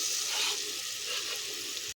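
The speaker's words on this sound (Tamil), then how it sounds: "இப்போ நம்ம நறுக்கின 2 வாழைப்பழங்களை உள்ளே சேர்த்துடலாம்." Steady hiss and crackle of sliced bananas frying in hot ghee in a pan, continuous and close, cutting off abruptly at the end.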